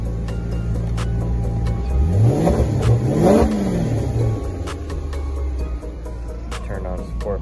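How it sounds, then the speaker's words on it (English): A 2013 Maserati Quattroporte S in sport mode revs its exhaust, rising and falling in a strong sweep around the middle of the clip, heard up close over a steady idle rumble. "Turn on sport mode so you guys can hear a better exhaust note."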